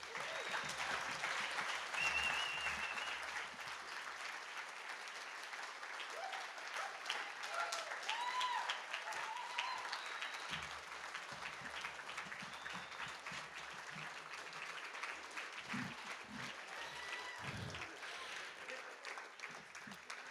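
A banquet crowd at a rodeo hall of fame induction gives sustained applause, dense and steady for the whole stretch at moderate distance, with a few low knocks and faint voices mixed in.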